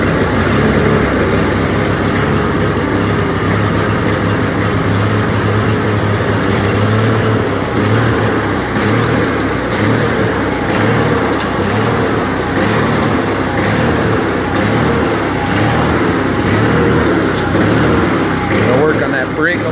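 A John Deere 316 garden tractor engine running at a steady idle, a close, loud, continuous mechanical drone that holds without a break.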